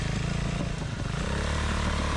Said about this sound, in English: The engine purrs steady and the handling is totally predictable